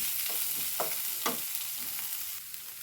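Garlic, green chilli and other ingredients are stirred and fried in a pan, giving a steady soft sizzle with a few scraping stir strokes close by and no talk.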